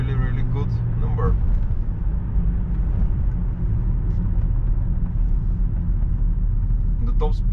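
A remapped 197 hp BMW E38 725 TDS diesel saloon driven through the city, heard from inside: a low, steady engine and road rumble, with a voice talking over it.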